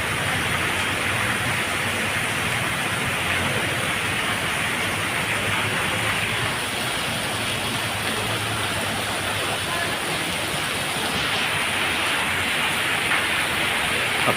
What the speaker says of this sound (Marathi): असाच बरसतोय तो.